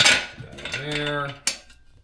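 A 17 mm wrench ratchets a bolt during assembly of a Garvee chest press machine, giving a short close run of metallic clicks with a sharp knock at the end.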